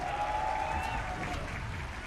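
Arena crowd at a Mobile Legends esports match clapping and cheering, a moderate sustained wash of applause with a faint tonal whistle or horn briefly over it.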